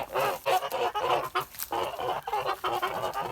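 Kholmogory geese by a stream giving a near-continuous run of loud, close, cackling honks and clucking calls in quick uneven bursts, with no talking.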